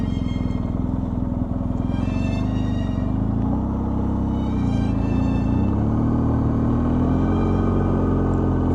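A car engine running in second gear on an Ohio dirt road, a steady low rumble that holds constant throughout, with a faint gear whine and tire noise on the loose surface beneath it.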